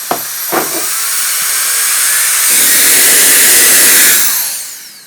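A powerful electric air duster starts with a few clicks, then blows in a loud, steady broadband hiss that swells and tapers off near the end, close up with no talk.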